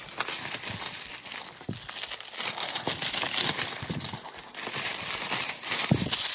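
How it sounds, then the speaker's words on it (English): A switchblade slices and tears protective plastic wrap off a boxed N scale model train set, giving close crinkling and ripping with irregular sharp snaps, with no voices. "all we have to do is cut off the protective plastic that is around the entire box"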